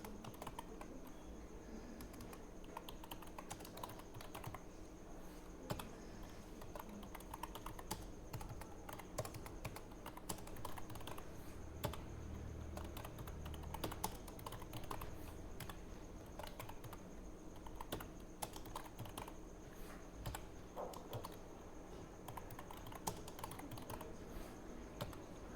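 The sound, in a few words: typing on a computer keyboard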